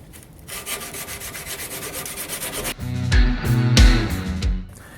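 Sandpaper wrapped around an old file is worked hard over a knife blade for etching prep, giving a steady loud rasping scrub, then heavier pressured strokes with deeper thumps near the end, up close and without talk.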